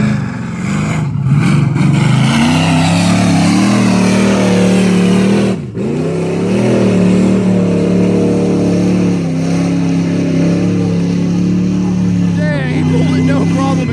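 A two-wheel-drive pickup truck engine revs hard and loud at a truck racing event, holding a high roar with a brief dip partway through, while people talk over it.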